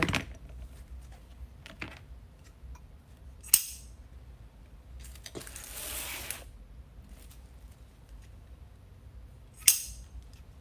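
Scissors snip the ribbon tail on a Christmas grapevine wreath, with a couple of sharp cuts and some soft rustling of ribbon between them, close but quiet.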